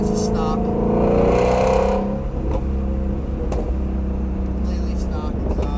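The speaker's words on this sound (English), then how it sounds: "burble noises out of the GT350R" Stock-exhaust Shelby GT350R with no tune, giving a loud, close engine roar that rises and then drops off into a burbling idle with a few sharp pops.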